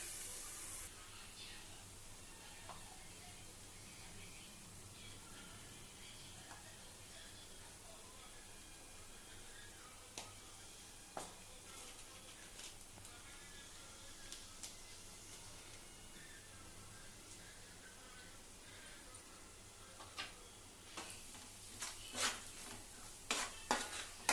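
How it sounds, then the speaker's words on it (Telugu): Onions and green chillies frying in hot oil in a pan, stirred: a steady sizzling hiss fills the whole stretch, with occasional scraping clicks of the spoon growing busier and louder toward the end. "ఫస్ట్ ఆయిల్ వేసుకొని ఆ తర్వాత పచ్చిమిరపకాయలు ఉల్లిపాయలు వేసుకొని ఇలా బాగా తిప్పుకోవాలి"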